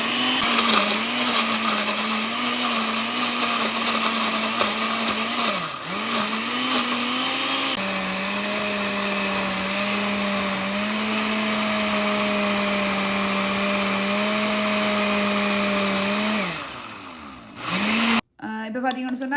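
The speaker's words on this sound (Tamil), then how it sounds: "ஓகே, இதை மிக்ஸ் பண்ணுவோம்." A blender whirs steadily as it purees a smoothie of apple, banana, dates and almonds, its pitch dropping and settling partway through before the motor winds down and stops near the end.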